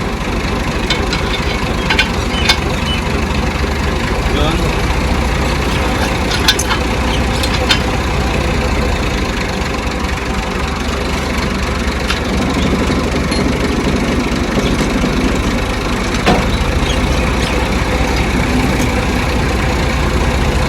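A tractor engine idles steadily at close range, a continuous low rumble with a knocking undertone and occasional clanks, running without pause from start to finish, loud and unbroken, with no voices standing out.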